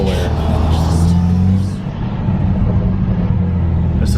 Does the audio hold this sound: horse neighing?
no